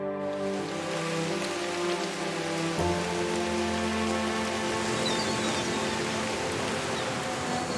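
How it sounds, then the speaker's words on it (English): Gentle drizzle over an Arabian desert oasis, a steady, even hiss of raindrops on surfaces that continues without pause, with no voices. "a gentle drizzle falling from the heavens, nourishing the earth below."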